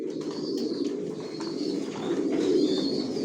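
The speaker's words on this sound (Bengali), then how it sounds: "অনেক বাচ্চা দেখাবো, অনেক কবুতর দেখাবো আপনাদেরকে" Racing pigeons coo softly and repeatedly inside a loft, a low throaty murmur from several birds at once, with faint higher chirps above it.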